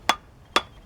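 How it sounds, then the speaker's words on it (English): A mallet strikes a brake caliper bolt on a Chevy Tahoe twice, two sharp metallic knocks about half a second apart, close and distinct. "and then I'll take the mallet"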